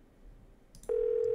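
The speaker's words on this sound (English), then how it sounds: "Well, a very short phone call with Bess" Telephone tone from dialing in the Nancy Drew game The Haunted Carousel: a quiet background, then a steady, loud electronic tone that starts abruptly and holds unbroken to the end.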